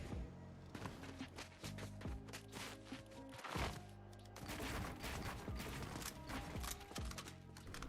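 Rapid bursts of gunfire in Fortnite, a stream of sharp close shots in quick uneven clusters with brief pauses, over a steady tonal game soundtrack, with no voices.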